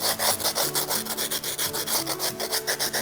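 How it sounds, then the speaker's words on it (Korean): Coarse sandpaper is worked over a hand-carved sculpture being shaped after scissor trimming, making rapid, rhythmic back-and-forth rasping strokes, close and steady, with no voices. "처음에 굵은 사포로 큰 면들을 과감하게 다듬을 수 있으니까요."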